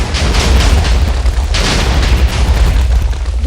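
TNT blast set off inside a block of stone in a video game, a loud booming explosion that rumbles and crackles for several seconds, heard alone and close.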